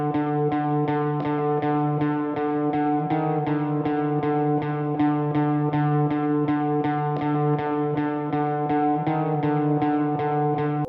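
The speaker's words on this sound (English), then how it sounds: "I started the beat with this very simple repetitive guitar pattern that sounds like this" A simple, repetitive guitar pattern for an indie post-punk beat, with steady fast plucked notes pulsing evenly throughout, sustained and effect-laden with chorus and echo, loud and alone.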